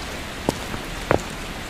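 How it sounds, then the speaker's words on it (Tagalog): Rain falls outdoors in a steady, soft patter, with a few sharper drips and taps standing out close by and no one speaking. "Ligo tayo sa ulan."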